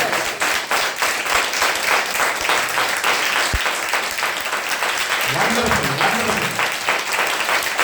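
A church congregation at a Sunday service claps hard and continuously in praise, a dense and loud wash of hands close by, while a voice speaks over it.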